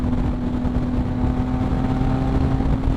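A Yamaha MT-09 motorcycle fitted with a Two Brothers exhaust pulls hard under throttle, a loud, sustained engine roar with a steady tone and heavy wind rush, heard close up with no talk.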